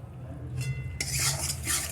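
Almonds roasting in ghee being stirred in a pan, a soft sizzle followed by a brighter burst of scraping and rustling as the spoon moves, close and quiet.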